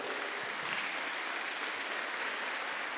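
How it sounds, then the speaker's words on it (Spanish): Church congregation applauding during a worship service, a steady, even roar of many hands clapping together, moderately distant and unbroken by speech. "Dale un aplauso a Jesucristo, alábalo."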